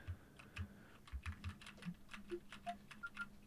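Rapid keyboard typing, steady clicking keystrokes close by, with a faint low sine-wave tone at 5% volume humming underneath.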